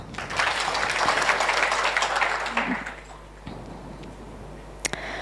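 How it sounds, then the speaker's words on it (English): An audience clapping at an annual general meeting training session, a dense burst of applause lasting a couple of seconds that fades away into room quiet, with a few stray claps near the end. "So maybe we should also clap for help"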